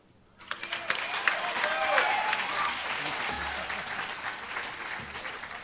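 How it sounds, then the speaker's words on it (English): An audience at a national summit for small businesses and co-operatives breaks into applause after a short quiet start, a full sustained clapping from a crowd that stays loud and even to the end. "Can we give him another hand of applause?"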